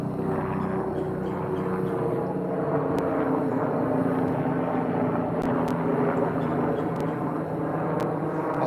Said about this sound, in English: might be a helicopter.